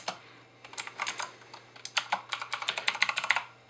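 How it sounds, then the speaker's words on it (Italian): Fingers type on a Victsing backlit gaming keyboard, producing quick, crisp clicky keystrokes in uneven bursts, close up and alone with no talking. "Il click ricorda un po' quello delle macchine da scrivere"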